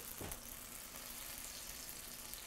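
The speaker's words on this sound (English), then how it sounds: "Hear the sizzle still." A baked dish with a crusty melted cheese top sizzles steadily and softly up close, a continuous frying hiss with a brief bump of handling noise near the start.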